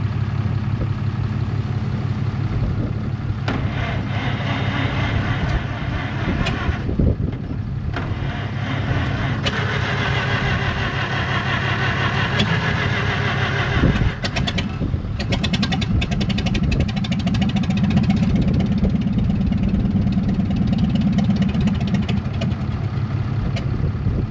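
A McCormick Deering Super W-6 tractor engine cranks and runs roughly as it tries to start, a loud, close, continuous low rumble with uneven surges and no clear speech over it.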